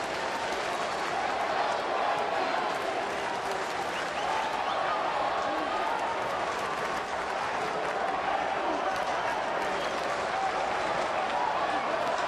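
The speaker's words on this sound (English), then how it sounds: "the Cub fans are getting upset, and that's why you hear the booing" Loud, continuous crowd noise fills a baseball game at Wrigley Field between the Yankees and the Cubs, with Cubs fans booing in a dense roar that does not let up, and a voice talking beneath it.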